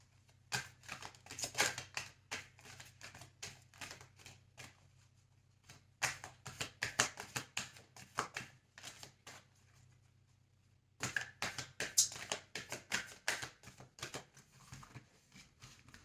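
Tarot cards are shuffled and handled in quiet bursts of rapid flicking and riffling, separated by near-silent pauses, soft and close by.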